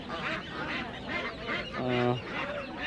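Raja ducks of various sizes at a village poultry market in Fatullah, Narayanganj, giving repeated nasal honking quacks with a louder drawn-out call midway, over a busy market background.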